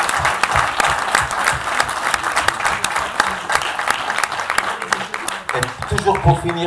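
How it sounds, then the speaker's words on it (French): Audience applause at a film premiere screening, dense steady clapping throughout with some voices mixed in, fairly loud and continuous. "Franchement, il faut les applaudir, vraiment."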